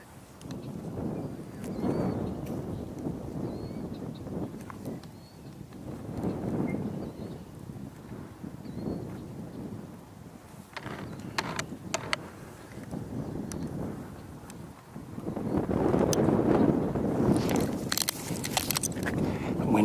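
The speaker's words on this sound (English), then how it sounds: "Wind is really annoying sometimes." Gusty wind outdoors buffets the microphone in long surging rumbles that rise and fall, loudest near the end, with faint scattered knocks and rustles.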